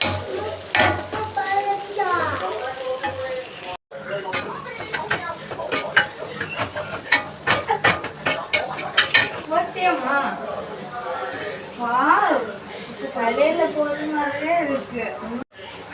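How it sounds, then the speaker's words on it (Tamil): Egg kothu parotta being stirred and fried in a pan, with steady sizzling and repeated metal clatter of utensils against the pan, under talking. "இது எல்லாத்தையும் நல்லா மிக்ஸ் பண்ணணும்."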